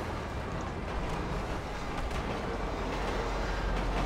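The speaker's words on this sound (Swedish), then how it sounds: "Här kommer tåget." A train in the video game GTA V rumbles past in a steady, loud, continuous roar that fills the whole moment without pause.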